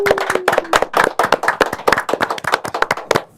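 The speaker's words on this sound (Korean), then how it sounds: "우리 제작진 여러분들이 오늘 고생하신 세 분께 큰 박수를 좀 부탁드리겠습니다" A small production crew claps for three education superintendent candidates at the close of a televised debate, with sharp, distinct hand claps in an uneven rhythm, close and loud, no voices heard.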